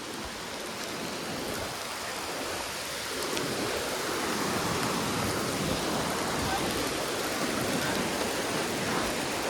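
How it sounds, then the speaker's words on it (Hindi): Rain pours steadily in the mountains on the Sarpass trek, a dense, loud hiss that builds slightly and continues without pause. "यहाँ पे अभी बारिश शुरू हो गई है"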